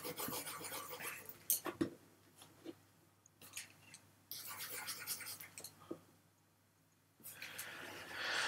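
Board eraser rubbing out math working on a board, heard as bursts of dry rasping strokes with short pauses between them, fairly close and moderately loud, with no talking.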